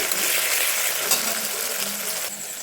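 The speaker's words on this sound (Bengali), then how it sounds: "এই যে তেলটা গরম হয়ে গেছে, আর এই যে আমি বিনসগুলো দিয়ে দিচ্ছি।" Green beans frying in hot oil with salt for chow mein, a close, constant crackling sizzle with a few soft stirring knocks and scrapes mixed in.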